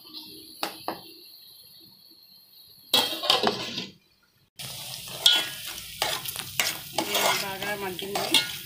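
Fish pieces frying in oil for a Telugu-style fish curry, with a close crackling sizzle and scattered clinks and scrapes, interrupted by a short silence before the frying resumes more loudly.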